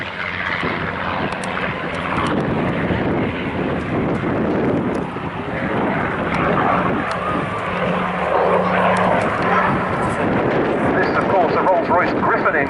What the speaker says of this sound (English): In for another low-level strafing run.